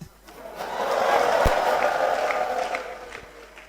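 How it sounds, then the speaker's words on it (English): An audience at a leadership speech event breaks into a swell of applause and cheering that builds, holds steady, then fades over a few seconds. "He deserves not just a round of applause,"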